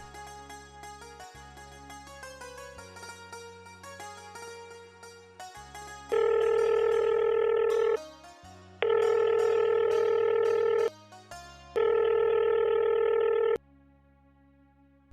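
A phone call being placed: a few quick dialing tones, then three long, loud ringback tones in a steady repeating pattern with short gaps, heard alone with no talking.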